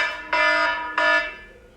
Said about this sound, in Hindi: ये अलार्म कहाँ से आ गया यार क्लास के बीच में।